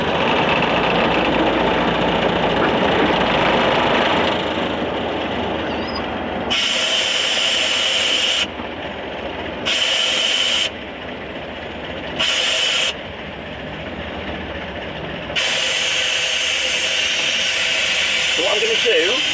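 A Ruislip Lido Railway locomotive's engine runs with a steady mechanical rumble, broken by repeated loud hissing bursts of air or brake release, heard close up on board beside the platform.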